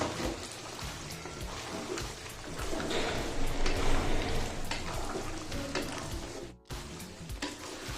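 Shinwari beef karahi with long-cut green chillies and garam masala frying hard in the pan, a dense, loud, steady sizzle broken by scraping stirs and clinks of the spoon, up close with no talk.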